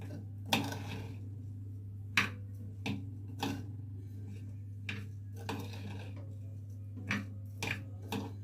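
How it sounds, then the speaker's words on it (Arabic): A spoon stirs salt in a cooking pot while preparing Egyptian country-style baked rice in a clay pot: sharp metallic clinks and taps at irregular intervals over a steady low hum, fairly faint. "وابدأ اقلب الملح"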